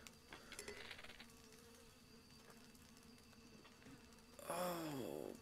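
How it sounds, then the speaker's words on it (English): Bees buzz in Zelda: Breath of the Wild, a faint insect drone early on, then a louder, fuller buzzing swarm surges in near the end. "Oh no, bees."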